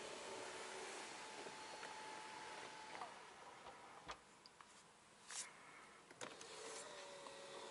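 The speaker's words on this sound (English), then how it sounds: "Okay, I'm opening the roller sun blinds." Electric roller sun blinds in a 2024 Mercedes S-Class whir open with a soft, steady motor hum inside the quiet cabin, punctuated by a few faint clicks and ticks as the blinds travel.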